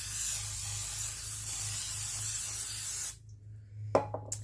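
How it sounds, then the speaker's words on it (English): Pam cooking spray hisses steadily into a casserole dish for about three seconds, a close, even aerosol spray that cuts off abruptly, followed by a few faint clicks and taps. "We're going to grab some Pam spray and we are going to spray this casserole dish"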